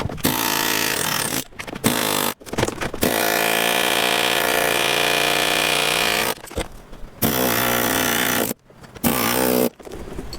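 A power tool cuts through the sheet-metal cab corner of a Dodge Dakota, a loud, close, harsh whine in long bursts broken by short pauses, with no talk.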